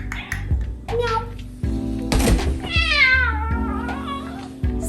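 A pet cat named Ruth Ann meows several times, close and clear, with rising and falling cries, while a person talks over and between the calls.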